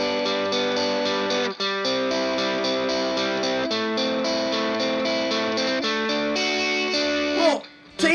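Electric guitar played through a Rat distortion pedal, a thick sustained distorted tone with chord changes and brief dropouts, ending in a swelling feedback-like squeal near the end.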